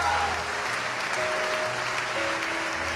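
A congregation applauds during a Pentecostal-style church service, steady dense clapping filling the room with some voices and tonal music underneath.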